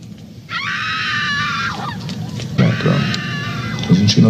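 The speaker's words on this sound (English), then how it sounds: "Some sound of screaming." Shrill, honking screams in a video game scene, set against a burning village, rise and fall in long wavering cries over a low rumbling bed, with a few sharper bursts later on.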